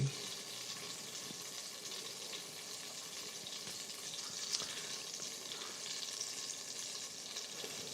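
Beef sears in a hot pan, browning as a cheap cut prepared for tender braising; a steady, even sizzle holds close and constant with faint stirring scrapes, and nobody speaks.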